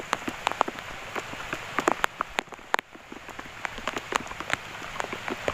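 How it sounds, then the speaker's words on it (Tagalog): Heavy rain at a fishing spot pattering hard on a surface, dense irregular drops striking close by with constant hiss underneath. "So malakas ang ulan."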